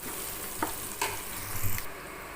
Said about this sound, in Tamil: இப்போது வெங்காயம் ஓரளவுக்கு வதங்கிடுச்சு